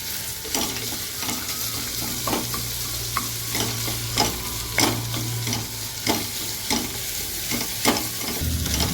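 Steady sizzling of two chopped onions sautéing in a pan, with repeated scraping and clinking as they are stirred, close and continuous.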